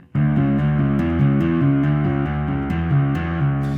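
A bass guitar plays a riff line alone, with clear repeated plucked notes in a steady rhythm and a few sharper attacks, close and loud for several seconds.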